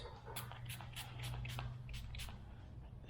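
Soapy water spritzed from a spray bottle onto emblem overlay film for a 2022 Subaru BRZ, a run of about eight short, close hissing bursts at a steady rhythm.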